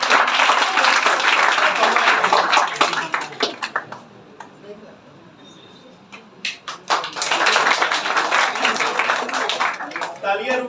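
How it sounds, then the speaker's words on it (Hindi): Audience clapping at a toppers' award ceremony, a burst of applause from a crowd that fades to near quiet midway, then swells again into sustained clapping, heard in a room with some voices mixed in. "तालियां रुकनी नहीं चाहिए। तालियों का कार्यक्रम अभी समाप्त नहीं हुआ है।"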